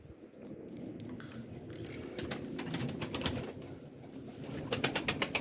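Kanat Posta pigeon let go from the hand and taking flight, a rustle of handling followed by sharp bursts of wing flapping that grow louder and quicker toward the end, heard outdoors with faint background noise.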